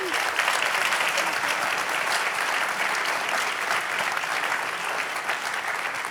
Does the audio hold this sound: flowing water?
no